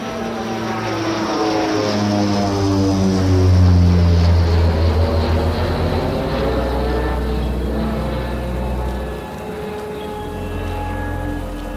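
Propeller airplane droning overhead, a loud sustained engine hum whose pitch glides downward as it passes and then recedes, with no voices.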